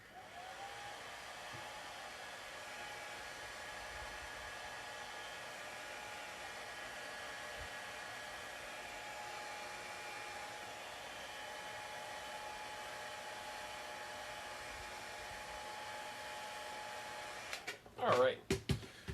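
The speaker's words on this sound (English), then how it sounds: "I will do that by just whipping out the hairdryer real quick" A hair dryer blows close and steady for about seventeen seconds, drying contrast paint on a miniature figure, a constant whooshing roar that cuts off abruptly, followed by a few brief handling clicks.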